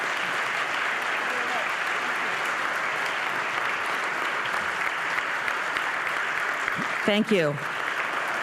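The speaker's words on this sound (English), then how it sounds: "Give another round of applause" Audience applause at the close of a book talk with authors, a steady dense clapping that fills the whole stretch, with a brief spoken thanks near the end over it.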